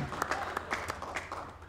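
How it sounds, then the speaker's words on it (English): A single person claps at a comedy roast, a sparse, uneven run of close hand claps over a quiet room. "Thank you, one person that's clapping."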